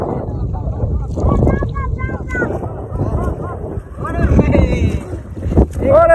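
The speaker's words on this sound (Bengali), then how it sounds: "চমৎকার একটা ডুঙা রেস হচ্ছে দেখুন" A dinghy race on open water, with boat and water noise rushing under gusty wind on the microphone while several people shout and talk nearby, voices rising and falling throughout.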